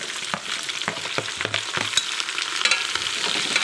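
Potato pieces added to brinjal and stirred in a frying pan for a rain-season sambar, a loud continuous sizzle punctuated by repeated knocks and scrapes of a spoon against the pan.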